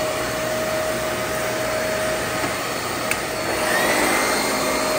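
A secondhand vacuum cleaner bought at a Goodwill thrift store runs continuously with a steady whining hum and a high tonal whine, close and loud, rising slightly near the end with no talking.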